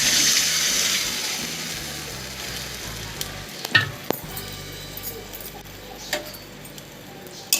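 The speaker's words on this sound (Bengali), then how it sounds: "এবার এই তেলটার মধ্যে আমি ম্যারিনেট করে রাখি চিকেনটা দিয়ে দিচ্ছি।" Marinated chicken dropped into hot oil, a loud bright sizzle bursting at once then settling into a steady frying hiss, with a few sharp utensil clinks close by.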